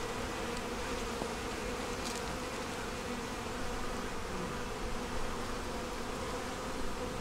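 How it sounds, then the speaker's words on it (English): Honey bees hum inside an open hive, a thick continuous buzz of many insects heard close up, steady and unbroken. "And they're happy bees."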